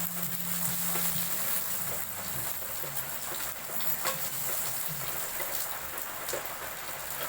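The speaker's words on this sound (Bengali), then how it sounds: "বন্ধুরা, মাছগুলো আমরা ভেজে নিয়েছি।" Pomfret sizzling in hot oil in a pan, a steady, dense close-up hiss with faint crackles throughout and no talking.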